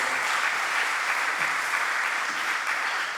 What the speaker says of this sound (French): je crois qu'on peut les applaudir encore